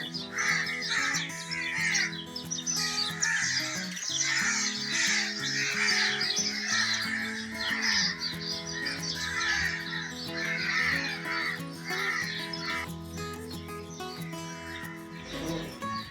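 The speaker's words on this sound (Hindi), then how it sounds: "ये परिंदों की धीमी धीमी चहचहाट, बहुत ही खूबसूरत नज़ारा है।" Many birds call near a hillside stream, a dense, continuous chorus of cawing and chirping throughout, layered over a steady background hum and running water, with no talking.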